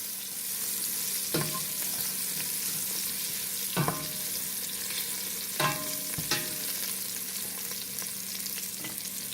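Dry spices including basil get stirred into ackee in a pan for Jamaican ital ackee. A soft continuous hiss is broken by four or five distinct scraping knocks of the spoon, spaced a second or two apart.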